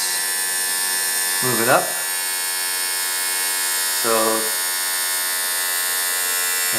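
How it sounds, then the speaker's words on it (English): An electric brake vacuum pump fitted to a 1983 Volkswagen Rabbit GTI whines continuously with a steady high-pitched hum, loud and close, while someone talks over it in short phrases. "I'm going to just turn on the ignition and get the pump started so you can hear it."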